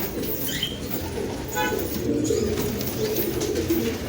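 Pigeons cooing at a bird market, several soft repeated coos close by over a busy murmuring crowd, with a few chirps mixed in.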